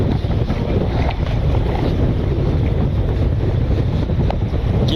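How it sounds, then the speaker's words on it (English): Strong wind buffets a fishing boat out at sea, a steady roaring rush of gusts across the microphone with water sloshing underneath, no voices. "The wind will blow you out the back."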